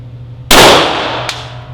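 A handgun fired once at close range, a single loud, sharp crack that decays over about a second, followed by a faint metallic clink.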